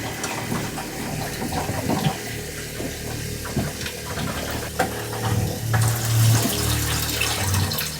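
Water runs steadily during a watermaker flush test, a continuous splashing flow with pump hum underneath, fairly loud and close, with no talking.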